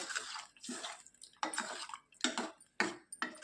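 Water from rinsing a pressure cooker poured into dal in four or five short splashing pours with brief gaps between them, close and fairly quiet.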